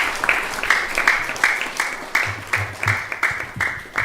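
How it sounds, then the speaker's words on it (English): An audience at a Gaur Purnima celebration claps after a class, a close, fairly loud smattering of rhythmic, pulsing handclaps with some low murmuring underneath. "It's a big round of applause for His Holiness Rompada Swami for a very nice class."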